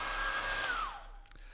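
A hair dryer blows with a steady airy whoosh and high whine, then powers down, its pitch dropping as it winds off.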